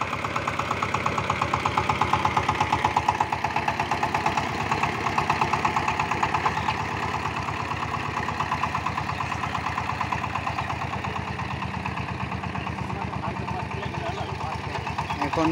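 A new 20-horsepower power tiller engine idles steadily up close, a loud, even mechanical chugging with a rapid regular knock that holds for the whole stretch without changing pace.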